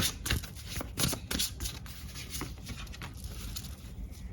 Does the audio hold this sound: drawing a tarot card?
yes